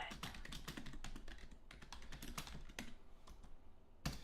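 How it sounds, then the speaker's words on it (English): Rapid, uneven clatter of keys on a computer keyboard, steady bursts of close typing with brief pauses and a louder tap near the end, no talk. "I can hear you I'm typing."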